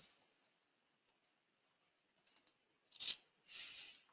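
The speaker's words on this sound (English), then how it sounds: "sometimes I wonder if you just heard me turning a page there" A paper page being turned in a quiet indoor room: two short, crisp rustles close together near the end, with no voices.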